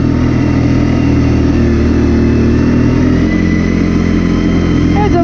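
Rebuilt Arctic Cat 400 ATV engine putting steadily uphill in low gear, a continuous mid-pitched drone close by that barely changes over the few seconds, with a voice heard over it.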